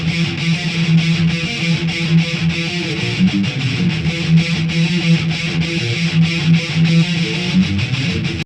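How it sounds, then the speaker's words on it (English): Metallica's "Blackened" plays as a dense heavy-metal mix with a black box processor adding mild low-end distortion harmonics, driving steadily and loudly with pulsing rhythmic hits and no speech over it. "I've got the black box dialed to add some minor distortion harmonics a bit lower in the spectrum"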